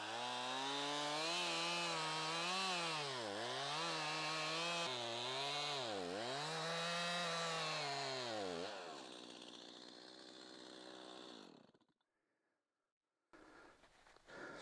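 A chainsaw making a back cut while felling a tree roars loudly and close, its engine pitch dipping and recovering as it bogs in the wood, then winding down to idle and cutting off.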